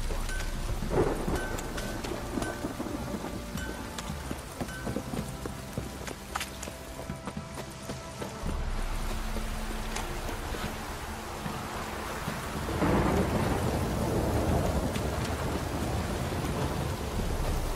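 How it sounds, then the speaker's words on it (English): Heavy downpour with rolling thunder in The Witcher 3: Wild Hunt, a dense, steady hiss of rain under low rumbles that swell and fade, with a louder surge of storm noise near the end and no voices. "This downpour's a bastard, it is."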